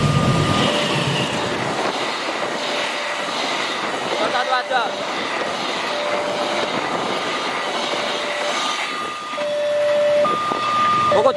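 A train speeds through a railway station, a loud continuous rushing rumble with intermittent tonal squeals and hums, while people talk over it.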